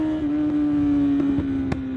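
A sport bike engine idles with a steady, throaty aftermarket exhaust drone, sharp pops cracking through near the end.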